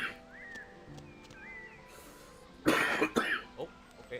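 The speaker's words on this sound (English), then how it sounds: "Oh, I hear him coughing." A player coughs and clears their throat over voice chat in an online game: a few quiet tonal game sounds first, then a burst of several harsh coughs close to the mic, followed by lighter throat clearing.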